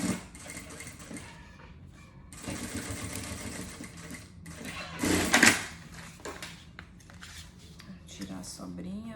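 Sewing machine topstitching a seam on a double toiletry bag, close by, in short bursts of whirring mixed with clinks, rustles and handling knocks.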